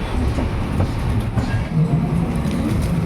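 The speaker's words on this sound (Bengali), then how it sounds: "অমৃতসর পর্যন্ত এই ট্রেনটি চলে অমৃতসর যেতে যেতে এই ট্রেনটা ভর্তি নিশ্চয় হয়ে যাবে" A moving passenger train running toward Amritsar, heard from inside as a constant low rumble with soft rhythmic rattling of the carriage, steady and fairly loud throughout with no talk.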